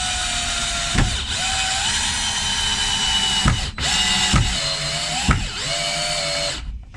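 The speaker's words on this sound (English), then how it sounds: "So this is on speed 1, it's on the drill setting. I'm just going to wind this one in." A Black and Decker 18V cordless combi drill on speed 1, drill setting, whirs steadily while driving a screw, with several sharp clicks and brief pitch shifts as it bites and slows.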